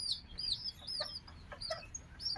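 Ten-day-old Thai Benjarong-colored bantam chicks and chickens at feeding time give faint, repeated high peeps and soft clucks in quick bursts, with no talking.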